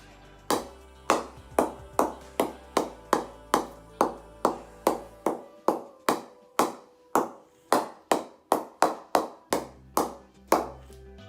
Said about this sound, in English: if you hit a bat that is not properly knocked in, you might hear a different sound when you hit the ball